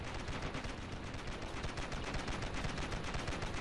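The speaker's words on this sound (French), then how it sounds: "On nous tire dessus." Ravenfield battle gunfire, a continuous dense rattle of rapid shots with no pauses, heard fairly faintly and alone throughout the short stretch.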